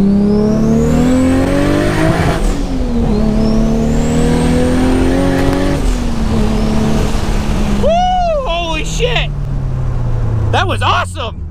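A sports car engine, a Toyota MR2 or Supra Turbo, roars close by, revving up through the gears with rising pitch at full throttle, then a whine as it speeds off.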